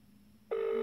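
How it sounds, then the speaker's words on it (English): After a brief quiet moment, a Samsung Galaxy Note 4 phone abruptly starts ringing with a steady electronic tone, close and loud. "so this phone should be ringing."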